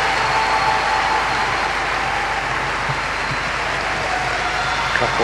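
A massive audience at the 1993 British Open Professional Latin ballroom dance final applauds after the dancing, a steady, dense hiss of many hands clapping throughout.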